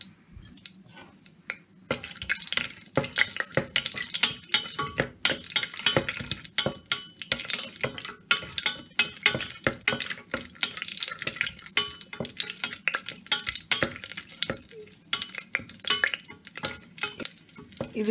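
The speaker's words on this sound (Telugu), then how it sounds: "ప్రెషర్ కుక్కర్లో కొంచెం ఆయిల్ యాడ్ చేసుకొని ఇప్పుడు ఈ బిర్యానీ స్పైసెస్ అన్నిటిని ఇందులో యాడ్ చేస్తున్నాను." Biryani spices fry in oil inside a pressure cooker, a close crackling sizzle with frequent clattering stirs and taps against the metal pot, starting after a short quieter moment.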